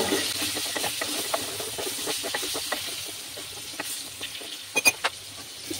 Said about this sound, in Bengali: দিয়ে আমি আলুগুলো লাল লাল করে ভেজে নেব